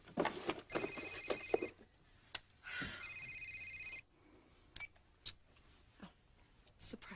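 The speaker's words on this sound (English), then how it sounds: "No, it's Sheridan's cell phone." A cell phone rings indoors in two electronic bursts. Voices of people talking come and go around the ringing.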